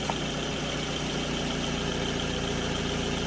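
A 2006 Scion tC idles steadily just after an alternator replacement, its engine hum even and unbroken from start to finish, with no voices.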